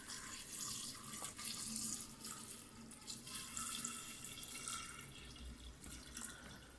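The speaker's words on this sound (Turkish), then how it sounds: "Doluncaya kadar gösterelim." Tap water runs steadily into a 5-litre container while making hawthorn vinegar, a continuous close hiss and splash with faint drips, alone with no talk.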